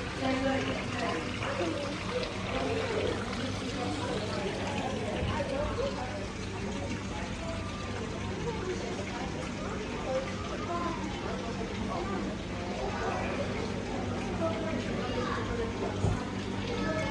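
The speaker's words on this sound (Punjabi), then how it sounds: "ਆਰਟੀਫਿਸ਼ਲ ਝਰਨਾ" Water pours steadily from an artificial waterfall at Aquarium Perth, a continuous broad splashing rush heard close, with people talking over it.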